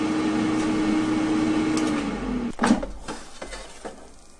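A Ninja air fryer hums steadily as it cooks fries, then the hum drops and the basket is pulled open with a clatter and a few light knocks, close and alone.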